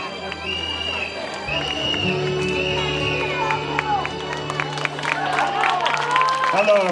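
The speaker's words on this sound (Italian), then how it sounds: "Facciamo un applauso ancora per il concorrente con il numero 2" A crowd claps for contestant number 2 at an amateur talent show, sustained applause mixed with cheering and chatter, with a steady hum running underneath.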